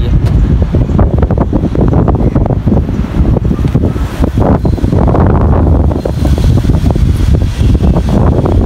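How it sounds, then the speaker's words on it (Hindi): Strong wind roars without pause and buffets the microphone loudly outdoors during pigeon flying, in a dense, rushing stream with no talk. "इतनी खतरनाक हवा चल रही है।"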